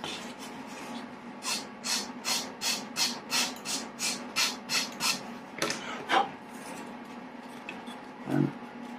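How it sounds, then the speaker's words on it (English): Material being sanded by hand to adjust an angle: about a dozen steady, evenly spaced rasping strokes close by, followed by a pause with a few light handling knocks. "you can always remove a little bit more material by sanding"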